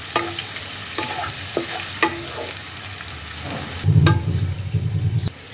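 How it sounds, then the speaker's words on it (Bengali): Chopped ginger and garlic fry in oil for a palak paneer base, giving a steady close sizzle with a few sharp spoon scrapes and clinks, then a louder bubbling burst near the end. "আদা রসুন কুচিটাকে এবার তেলের মধ্যে ভালো করে ফ্রাই করে নেব।"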